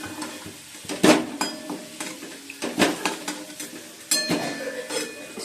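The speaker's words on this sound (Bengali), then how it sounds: "এবার ফুলকপিটা ভাজবো" Cauliflower frying in a pan gives a soft sizzle under repeated scraping stirs and clinks of a utensil against the pan, close and moderately loud.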